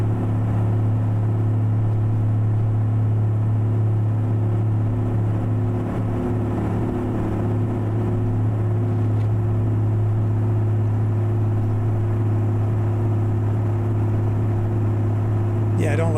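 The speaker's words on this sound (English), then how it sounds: "I don't like that engine sound." A heavy truck engine in American Truck Simulator drones steadily at a low pitch, a constant loud rumble held at high revs without pause.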